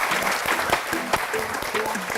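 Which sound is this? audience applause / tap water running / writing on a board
audience applause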